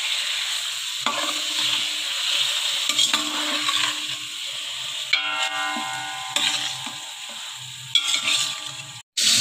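Golden onions with added pieces frying in a pan, a continuous sizzle broken by repeated scraping stirs and light clinks of a utensil against the pan, with no voices.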